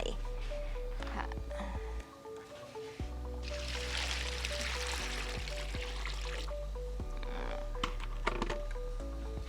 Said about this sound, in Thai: ก็เตรียมผ้าใส่ภาชนะนะคะ แล้วก็เทน้ำลงไป